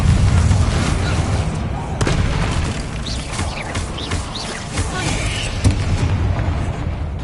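Bombarda blasting spells cast in a Hogwarts video game: loud booming impacts with crackling debris burst through a continuous roaring wash, with other spell effects and shimmering swishes between them.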